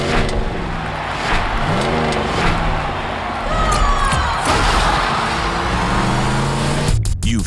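Honda Civics and a truck with a trailer rev and race around a Fast & Furious Live arena stunt show, engines roaring loud and close with sweeping pitch changes, ending in a few sharp knocks.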